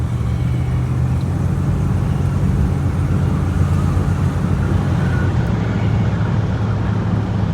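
A 1967 Chrysler Imperial driving a lap on old, slightly low tires, its engine and road noise a steady close rumble with a little breeze, no talk over it.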